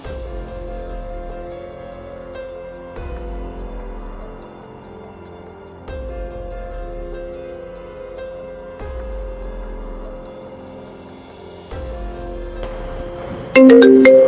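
A mobile phone rings during an incoming call indoors, a repeating synthesized ringtone melody in steady cycles of about two seconds, moderately loud, with no talking over it, ending in a brief sharper tone.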